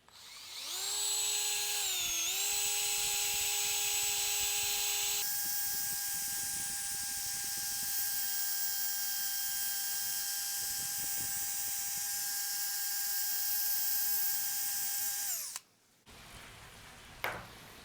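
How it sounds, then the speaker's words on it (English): A cordless drill with a fresh battery whirs loudly and steadily, with a high tonal whine that dips briefly in pitch and shifts speed before stopping, followed by a few short clicks and handling sounds, with no talking. "New battery in the drill. There we go, right there."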